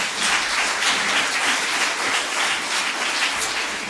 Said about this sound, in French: Merci d'applaudir très fort Scarlett et Bertha.